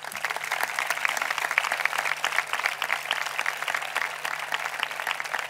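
An audience at the presentation of the 2020/21 patronal festivals in Benigànim applauds the festival organizers, a dense, steady clapping from a crowd that holds throughout with no voices over it.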